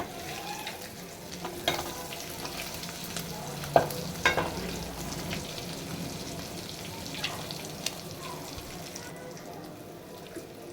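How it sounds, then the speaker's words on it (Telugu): Egg pieces seasoned with chilli powder and coriander powder fry in a pan and are flipped partway through, giving a steady soft sizzle with occasional stirring and scraping clicks. "ఇలా ఒక సైడ్ వేగాక దీన్ని ఇంకా తిరిగేసుకోవాలి"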